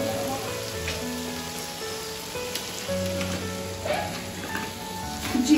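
Whole cumin, cloves and black pepper sizzle in a hot pot while pulao is being made, a steady close crackle and hiss running throughout with faint clinks near the end.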